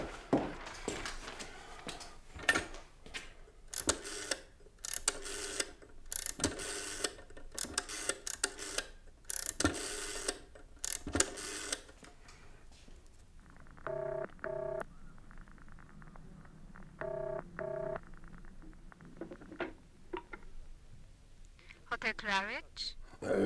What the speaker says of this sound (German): Ich muss nur schnell telefonieren.